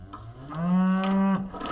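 A single cow gives one long, clear moo that swells and then fades, heard from a moderate distance over faint background noise on a farm.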